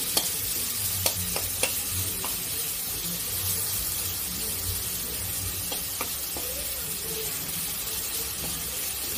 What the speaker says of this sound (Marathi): अद्रक लसूण पेस्ट टाकूया.